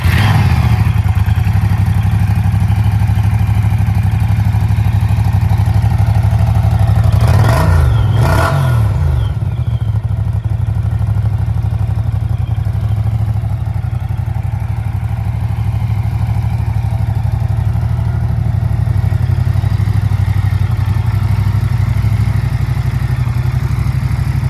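A Moto Guzzi V100 Mandello with stock exhaust fires up close by. After a starter whir and a sharp catch, the engine settles into a steady, throbbing idle that runs on alone.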